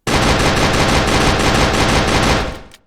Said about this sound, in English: if I put a pistol in his other hand, then you can shoot two pistols